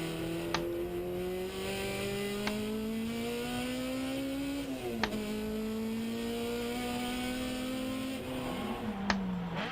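A car engine revving high at about 10,000 RPM, a steady buzzing whine that climbs slowly, drops briefly at shifts and holds again, heard close throughout.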